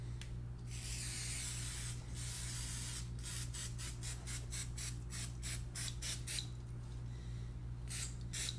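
Aerosol protective coating sprayed onto rough-out leather boots in repeated short hissing bursts, with a longer spray at the start and a rapid run of quick bursts later, close and fairly loud over a steady low hum.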